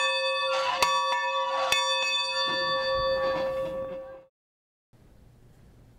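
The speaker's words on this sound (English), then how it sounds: "So that's how I ring the bell." A large bell rings loudly up close, two strikes with a long ringing tone that fades into a brief silence, followed by faint room noise.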